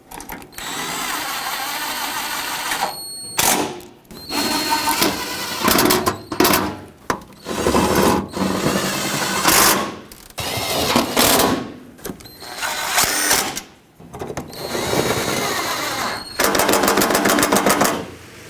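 A power tool runs in repeated bursts of a few seconds each, separated by brief pauses, while 10mm bolts are driven into the cowl of a 2010-2015 Lexus RX350. The whirring is loud and close, with no speech.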